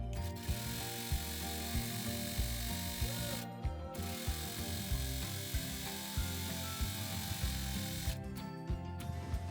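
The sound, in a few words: overlock serger sewing machine stitching fabric edges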